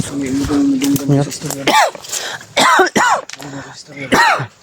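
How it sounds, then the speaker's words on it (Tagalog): Several harsh coughs and throat-clearing bursts break up a person's talking, loud and close to the microphone. "Ubo na ko ani"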